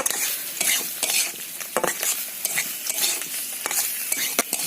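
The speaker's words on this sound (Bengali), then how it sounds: "এবার আমি আলুটাকে দিয়ে এই মশলার সঙ্গে তিন থেকে চার মিনিট মতো নাড়াচাড়া করে নেবো" Potatoes fry with spice paste in a pan, sizzling steadily while a spatula scrapes and stirs them in quick, repeated strokes, close up and without talk.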